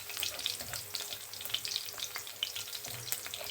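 An ingredient toasts in hot frying oil for chicken cooked in coconut milk, giving a quiet, busy sizzle with crackling pops and stirring scrapes throughout.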